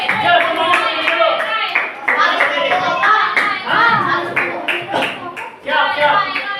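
Children in a fifth-grade classroom clap their hands together in a burst of quick, uneven claps mixed with their shouting voices, loud and close throughout.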